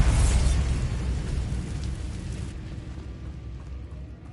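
Bombarda explosion spell in a wizarding game, a loud booming blast that rumbles and slowly fades away over several seconds.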